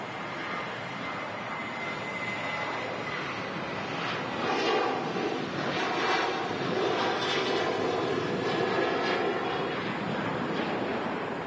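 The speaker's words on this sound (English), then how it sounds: "Another Ryanair 737. This one's also heading off to Dublin." A Ryanair Boeing 737 at Manchester Airport gives a steady, broad jet engine roar that holds loud and even throughout, swelling slightly partway through, with no talk over it.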